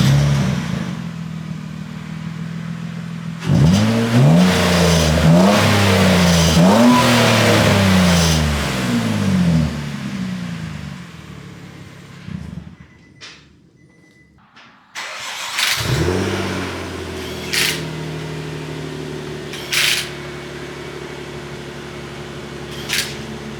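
Nissan Altima with a new exhaust cold-starting, then revving repeatedly in loud rising bursts before settling to a steady idle, a brief near-silence mid-clip, then idle again with a few short blips of throttle.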